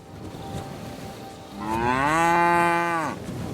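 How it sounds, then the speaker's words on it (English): A cow in the medieval game Kingdom Come Deliverance 2 gives one long, loud, tonal moo, rising and holding steady before fading, over quiet background ambience. "Why that cow is in the middle of the way, just standing there, doing nothing?"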